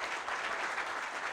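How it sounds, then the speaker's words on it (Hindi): Short, distant applause from an audience at a press meet, a soft steady wash of clapping with no distinct individual claps. "तो एक बार इनके लिए तालियां।"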